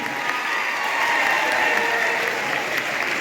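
A crowd at a UP Diwas ceremony applauds to welcome its guests, a steady, dense wash of clapping from many hands with no talk over it.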